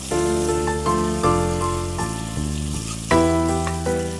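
Prawns cooking in hot oil in a pan sizzle and fry steadily, a dense close crackle with brief louder bursts and no talking.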